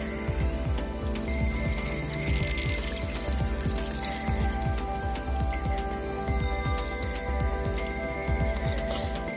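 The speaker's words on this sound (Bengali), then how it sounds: "প্রথমবার জল দিয়ে টবটিকে ভালোভাবে ভর্তি করে দেব।" Water is poured into a rose plant's pot, a steady close trickle and patter with frequent small splashes, continuous and fairly loud throughout with no talking.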